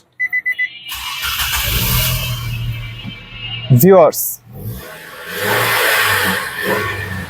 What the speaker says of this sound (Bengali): এখন গাড়িটি স্টার্ট দিব আপনারা জাস্ট নোট করবেন ইঞ্জিনের কন্ডিশন ইঞ্জিনের সাউন্ড